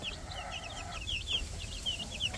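Rhode Island Red chicks give high, repeated peeps in quick little bursts, moderately close over a low steady background rumble, with no talking.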